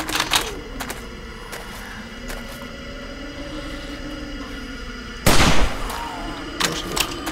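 Rifle shots from the video game 7 Days to Die crack out as sharp, isolated reports, with one louder burst near the end over a low ambient game hum. No one speaks during it.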